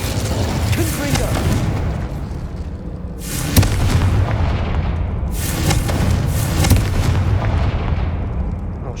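Confringo spell explosions in the Hogwarts Legacy video game: two loud bursting blasts a few seconds apart, each followed by a crackling decay, over steady game rumble and background music.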